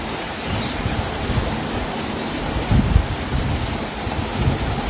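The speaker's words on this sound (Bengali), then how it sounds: "ঝিম বৃষ্টি হচ্ছে" Steady, dense rain hiss fills a hillside scene during the monsoon, with a low rumble and occasional heavier patters, no talking.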